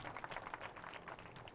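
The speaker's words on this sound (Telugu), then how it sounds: "వాళ్ళందరికీ ఒకసారి గట్టిగా క్లాప్ చేద్దాం మనం." Audience clapping at a rally event, a brief burst of quiet, scattered applause from a crowd.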